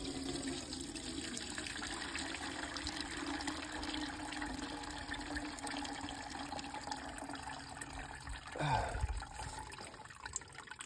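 Liquid poured into a container during beeswax cleaning, a continuous soft trickling and splashing that holds steady, then swells briefly near the end, with no talking.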